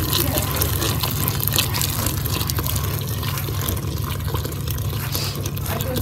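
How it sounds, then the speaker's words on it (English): Boiling water pours continuously into meatball sauce in a pot, a steady splashing, bubbling stream heard close up with a low background hum. "Now we're adding some boiling water to our sauce for our meatballs."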